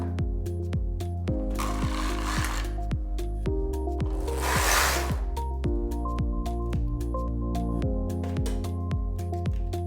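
A Knittax knitting machine carriage runs across a ribbing row with a dense stream of rhythmic mechanical clicks and clacks, broken by two rasping sliding sweeps, all close and steady.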